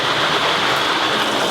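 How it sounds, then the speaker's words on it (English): A building fire pump runs with water flowing through hose during high-rise training, a loud broadband rushing roar, steady and close, no talk. "And fire pump is kicked on."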